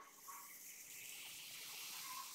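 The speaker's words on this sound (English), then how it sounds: "you can hear it sizzling to the outside." A steady, hissing sizzle of waffle cone batter in a hot press, with faint high crackle, close and continuous, gradually growing a little louder.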